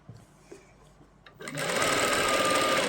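A sewing machine runs steadily, stitching the back piece of an Afghani salwar, starting loud and continuous at about halfway after a few quiet handling sounds.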